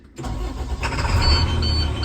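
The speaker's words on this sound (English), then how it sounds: "The bus starts right up." A 2012 International PB105 short school bus engine cranks briefly and catches, settling into a steady, rumbling diesel idle close by.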